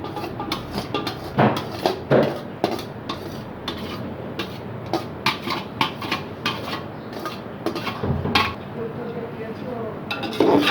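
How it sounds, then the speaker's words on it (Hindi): Drained, boiled rice tipped into a pot of sugar syrup for wedding-style zarda, with repeated metallic clinks and scrapes of a utensil against the pot and soft shuffling, close and fairly busy throughout. "अब हम यहाँ डाल देंगे अपने छने हुए उबले हुए चावल"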